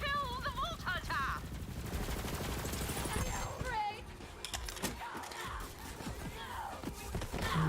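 Rapid gunfire and bursts in the video game Borderlands 3, loud shots and chattering automatic fire layered with game effects and voice lines throughout.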